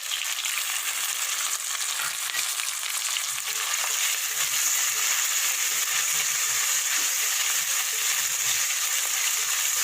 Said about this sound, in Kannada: ಇದು ಸ್ವಲ್ಪ ಫ್ರೈ ಆಗ್ತಿದ್ದಾಗಲೇ ಟೊಮೊಟೊ ಕೂಡ ಹಾಕ್ಬಿಡೋಣ.